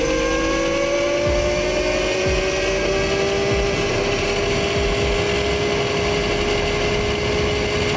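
A Xekoya XE100 52V electric dirt bike ridden in mode 2 emits a steady, loud high-pitched motor whine that climbs gradually in pitch as it gains speed, with rushing wind and road rumble underneath.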